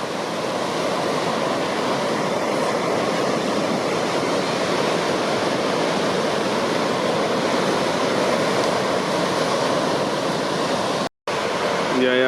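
Ocean surf pounds the shore at Praia do Tombo in a strong wind, making a dense, unbroken roar of crashing and washing water that stays loud throughout, with a brief dropout near the end.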